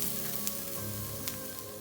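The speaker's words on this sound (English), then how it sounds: "it has to be toasted for some time" Chopped brinjal and onion sizzle and crackle softly in a hot pan on a stove, a continuous low frying hiss with a couple of sharper pops.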